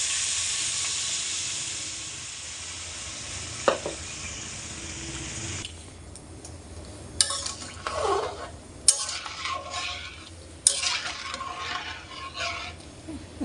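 Water poured into a pan of hot, well-fried spiced curry base while cooking dhoka, producing a broad steady hiss and steam that drops away, followed by scattered clinks and stirring sounds of a spoon against the pot.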